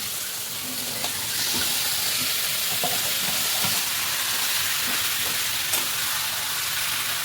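Marinated chicken pieces for chicken kosha frying in hot oil in a pan, a loud, continuous sizzle with occasional spatula scrapes and stirring knocks, up close and without talk.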